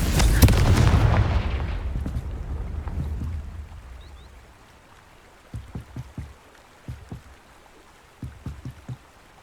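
A Confringo fire spell detonates in Hogwarts Legacy with a loud, deep blast that rumbles and slowly decays over several seconds, followed by a series of short, softer thuds and crackles.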